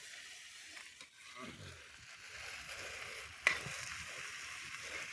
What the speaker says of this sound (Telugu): బాగా అల్లం పేస్ట్ వేసిన తర్వాత కలపండి.